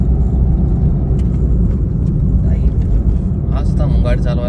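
A car idling and creeping forward in stop-and-go traffic, a steady low engine rumble throughout with faint distant traffic noise and a brief higher whine near the end.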